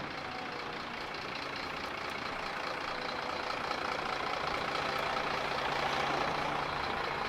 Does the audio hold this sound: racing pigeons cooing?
no